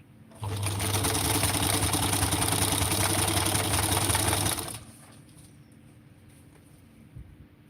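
A home sewing machine stitches fabric in a loud, steady whir for about four seconds, then cuts out, leaving a quiet room with faint small noises.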